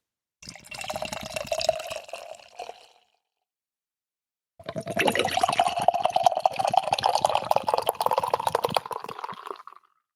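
Beer poured from a can into a glass, a Tonka-flavoured brew, with two bursts of fizzing, gurgling liquid: a short pour, a pause, then a longer steady pour close by with no talking.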